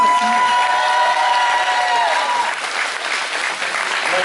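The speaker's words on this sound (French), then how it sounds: "vous pouvez l'applaudir" Loud applause from a crowd at a cosplay contest in Dijon, sustained clapping with some cheering, a tone sounding early on and a voice briefly over the noise.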